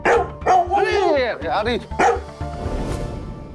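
A therapy dog barks a few times in a short burst, heard close by and mixed in with people talking over it.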